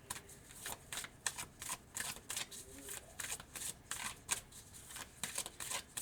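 Tarot cards being shuffled in quick papery riffles and flicks, a steady run of crisp bursts at close range with no talking.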